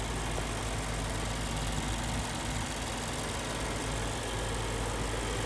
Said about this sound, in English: This engine is a V8 engine.